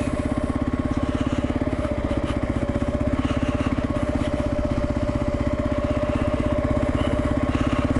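Kawasaki KLR single-cylinder motorcycle engine running steadily and close, a fast even thump with a constant drone throughout, while riding along a dirt track.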